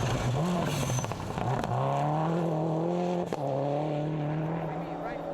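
A rally car at speed on a dusty gravel stage, its engine loud and close, pitch rising and then holding as it passes, with a brief tire scrabble and a voice talking over it.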